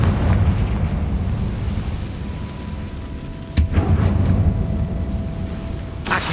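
Confringo fire-blast spell exploding in a Harry Potter video game: loud booming bursts land about midway and again near the end, over a constant dense rumbling background.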